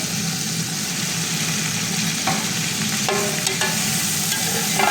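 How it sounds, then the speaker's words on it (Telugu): Onions and cauliflower frying in a pan, a steady close sizzle that runs throughout with occasional stirring scrapes and clinks. "బిర్యానీ బాగా వేగినాక ఉల్లగడ్డలు అండ్ కాలీఫ్లవర్ రెండు ఇవి కూడా కొంచెం ఫ్రై అయితే"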